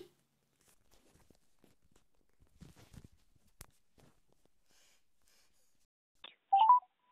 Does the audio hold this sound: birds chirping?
no